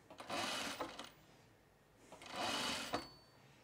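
A sewing machine stitching through shearling runs in two bursts of about a second each, with a pause between them, close by and fairly quiet.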